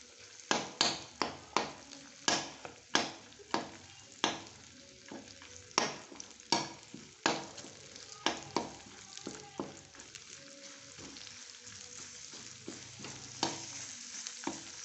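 Ingredients for carrot halwa fry in ghee, stirred with regular scraping strokes against the pan over a low sizzle; the knocking strokes come steadily, then thin out toward the end.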